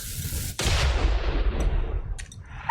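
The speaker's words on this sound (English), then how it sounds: "we need to throw the first stick over here. That will detonate the dirt." In the video game Valiant Hearts, a thrown dynamite stick detonates a mound of dirt with a sudden loud blast that rolls into a long rumbling, debris-filled roar, then fades.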